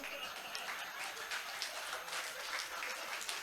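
Audience at a Hindi poetry recital (kavi sammelan) for World Hindi Day at Royal Global University claps briefly, a thin, fairly distant patter of applause with some crowd murmur.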